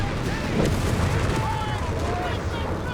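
German machine gun fire during a head-on assault in the strategy game Company of Heroes 3, with rattling bursts and booming battle noise heard at a distance beneath a commentator's voice.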